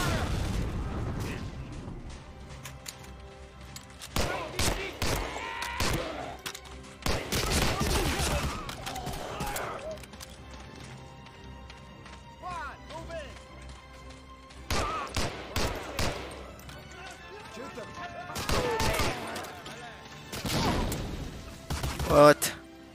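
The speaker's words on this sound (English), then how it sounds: "That's Colt 45. Semi-automatic pistol." Colt .45 semi-automatic pistol shots in Medal of Honor: Allied Assault, heard as several separate loud bursts spread across the clip, with quieter game sounds and mechanical clicks in the gaps.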